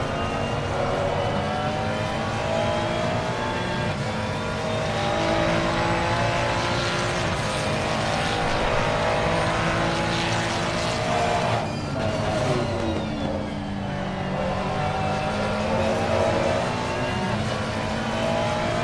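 Ferrari GT3 race car at the Red Bull Ring during a Caribbean GT3 Championship race, its engine a loud sustained tonal wail that shifts pitch through the gears, with a dip and rising sweep near the end, steady and close.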